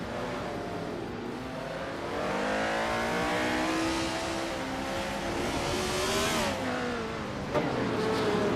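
Video game race cars launch off the line at the start of a race at Old Bridge Township Raceway Park Layout 3, engines revving up loudly together and rising steadily in pitch as they accelerate away.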